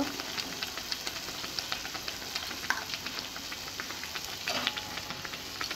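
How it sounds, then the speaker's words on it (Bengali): Carrots being stirred into simmering Basanti pulao, a steady bubbling sizzle running throughout with soft scraping stir strokes near the pot. "নেড়ে চেড়ে নেব।"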